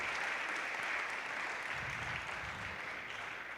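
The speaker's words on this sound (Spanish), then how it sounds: "Denle un aplauso fuerte a Él." A church congregation applauding together, a dense, even wash of clapping from many hands that holds steady for a few seconds, fairly distant and with no voices over it.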